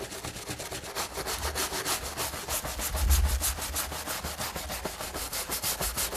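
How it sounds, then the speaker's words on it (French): A hard brush scrubs putty residue off window glass in quick, rhythmic back-and-forth strokes, close and loud throughout, with no one speaking. "je prends une brosse dure et je commence à frotter allègrement"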